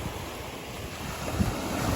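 Sea waves rolling onto a sandy beach make a continuous roaring wash, blended with buffeting wind on the microphone and swelling slightly toward the end, with no voices.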